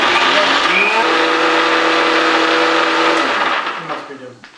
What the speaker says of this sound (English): Now you can grind it in the grinder.